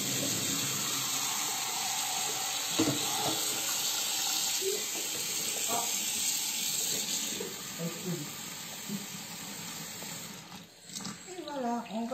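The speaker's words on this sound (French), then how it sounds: "Alors, le robinet d'eau froide." Cold water runs steadily from a kitchen tap in a cooking workshop making hanami dango, a continuous loud hiss with faint clinks of a colander, and people talking beneath it.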